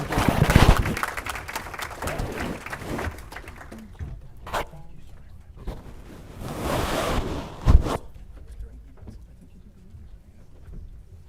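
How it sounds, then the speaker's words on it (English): Audience at a regional economic summit in Hemet applauds its panelists, a burst of clapping that fades and then swells again in shorter rounds, heard in a room with some scattered voices. "A big round of applause, everyone, for our panelists."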